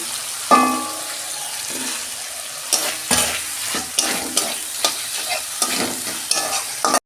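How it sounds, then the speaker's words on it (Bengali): Potatoes sauté in hot oil in a pan for a Bengali-style vegetarian chana dal, with a steady sizzle broken by regular, close scraping strokes of the spatula against the pan. No one speaks. "এবার আমি আলুগুলো দিয়ে দিচ্ছি"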